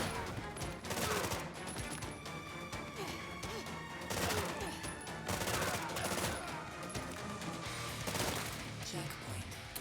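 Rapid gunfire from a weapon pickup in the side-scrolling game Terminator 2D: No Fate, dense repeated shots and crashes over loud game music for about ten seconds.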